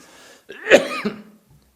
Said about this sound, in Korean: 폐렴 기침이 아닙니다.